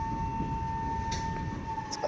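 A tornado siren holds one steady, droning wail throughout, fairly faint and distant, heard from a railside spot in the Allegheny Mountains with no one talking.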